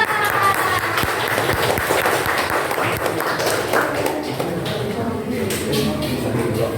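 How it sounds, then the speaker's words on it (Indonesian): Classroom applause for a student group after their presentation, a steady dense clapping from a small crowd lasting several seconds with voices mixed in. "Tepuk tangan untuk kelompok 2."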